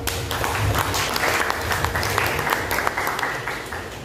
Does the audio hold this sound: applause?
yes